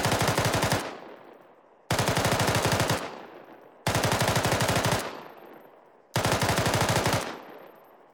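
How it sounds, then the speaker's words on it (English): An M249 SAW machine gun fires four long bursts at cyclic rate, each a rapid loud rattle of shots lasting about a second, followed by a decaying echo and short pauses, close and with no voices. "So a cyclic rate of fire for the saw would sound like this."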